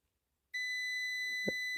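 Steady electronic continuity beep from a multimeter probing the repaired wiring of a Chicago Electric welder, starting abruptly after a short silence and holding as one continuous tone, with a brief tap of the probes near the end.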